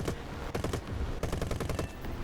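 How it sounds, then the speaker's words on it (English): Rapid machine-gun bursts from the twelve wing guns of a Hurricane Mk IIB in War Thunder, loud and close, firing in two dense rattling strings with a brief pause between them. "A few more shots"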